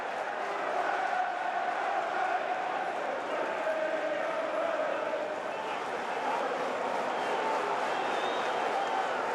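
A home crowd roars at a Portsmouth v West Bromwich Albion EFL Championship football match, a dense, sustained stadium noise of shouting and chanting from thousands of voices, steady and loud throughout.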